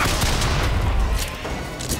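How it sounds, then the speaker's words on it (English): Fireworks bursting in the video game Bioshock Infinite: a rapid run of crackling, booming explosions, loud and continuous, with sharp bright pops scattered through the rumble. "Oh, the fireworks! Nice!"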